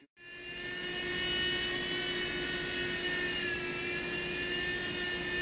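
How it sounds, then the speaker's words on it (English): An MSR RC helicopter hovers nearby with a steady high-pitched motor whine and constant buzzing rotor drone, loud and unbroken throughout with no talking. "quick little helicopter."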